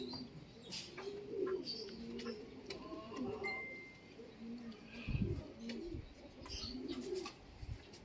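Pigeons coo in a clocker loft, soft repeated throaty coos overlapping from several birds, with chirps, rustling and occasional bumps nearby and quiet voices talking at times.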